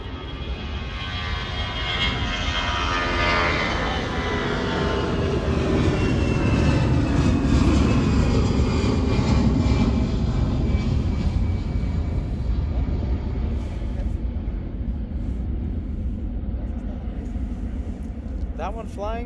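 Lufthansa airplane on flight 1734 to Belgrade, heard as a long, loud jet roar that swells toward the middle and slowly fades, with a voice talking over it.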